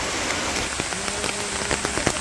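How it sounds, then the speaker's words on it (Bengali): Rain falls outside in a village, a dense steady patter of drops on surfaces with a few sharper drips standing out, close and continuous with no talk. "ওই যে বৃষ্টি ফোঁটা পড়তেছে কিছু কিছু করে"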